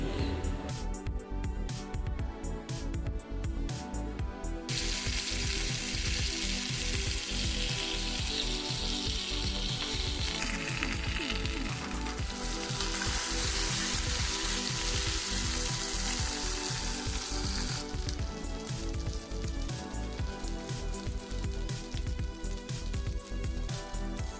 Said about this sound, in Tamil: ஃபிஷ் ஃப்ரையும் பண்ணிடுறேன் சைட் பை சைடு